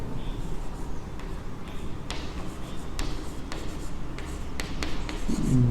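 Pen or chalk writing out a maths equation, with steady scratching strokes and sharp taps over a low background hum, close and continuous for several seconds.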